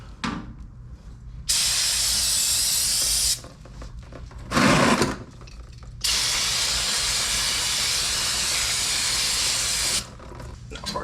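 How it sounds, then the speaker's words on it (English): Junkyard brake parts, including a caliper, are washed down with a water sprayer: loud, close hissing bursts, one short and one long, separated by quieter gaps. "Let's go ahead and wash this down."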